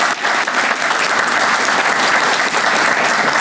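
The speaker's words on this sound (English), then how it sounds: "Give him another round of applause." Sustained audience applause fills a veterans recognition breakfast, steady and loud throughout with dense clapping from a large room and no break in the ovation.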